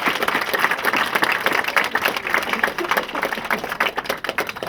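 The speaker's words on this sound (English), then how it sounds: "So let's give all the boys a round of applause" A crowd applauds the players after a local soccer cup final, a steady wash of clapping held at moderate loudness throughout, with no talk over it.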